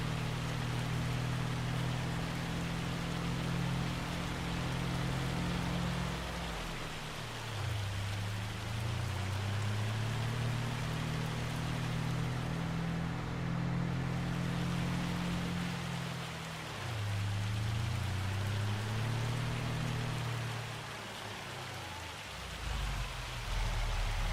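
Rain falls steadily in the farming video game Farming Simulator 25, a continuous hiss layered over a low engine hum that dips and rises in pitch, with no talking.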